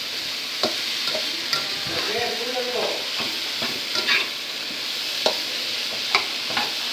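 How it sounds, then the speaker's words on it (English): Potato and tomato frying in a pan, steady sizzling with repeated scraping and clattering stirs of a utensil at close range. "And then I'm just gonna stir it around a little bit. Let it fry a little bit."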